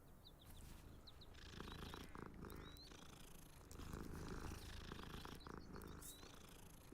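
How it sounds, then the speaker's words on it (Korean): A cat in the Hogwarts Legacy video game purrs steadily and continuously at low volume, with faint game ambience and a few soft bird chirps behind it. "고양이다."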